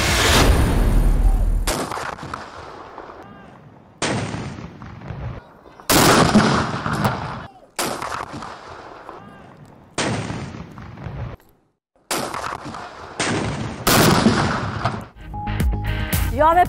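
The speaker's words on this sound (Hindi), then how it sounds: "यौम पाकिस्तान पर दिन का आगाज तोपों की सलामी से हुआ।" Ceremonial cannon salute fired on Pakistan Day in the capital: several loud booming blasts at irregular intervals of roughly two seconds, each ringing out and decaying before the next, with no voices.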